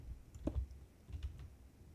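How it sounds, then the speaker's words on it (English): Computer keyboard keys clicking during a Minecraft session, a few quick soft taps in two small clusters, faint and close with no voice over them. "I'm sorry if you can hear my keyboard clicking too much."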